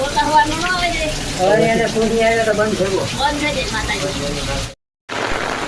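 Water gushes and gurgles out of a pipe in a loud, continuous churning flow, with a voice talking over it for a stretch midway, then a brief cut to silence before the flow resumes.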